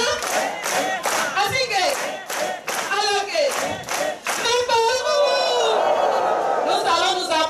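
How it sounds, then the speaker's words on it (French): A crowd at a gathering in Benin claps and shouts, with voices rising over rhythmic clapping before it swells into sustained, loud cheering and applause. "on va applaudir pour ces grands chefs. Applaudissons."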